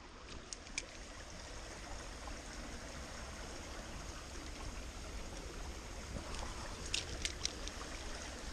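Water flowing steadily in a small stream during trout fishing, a constant close rushing wash with a few faint splashes and clicks, no talking.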